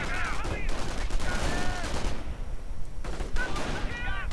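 Rifle and machine-gun fire in a World War II strategy video game with British troops, rapid bursts and scattered shots crackling throughout, mixed with game sounds and someone talking over it.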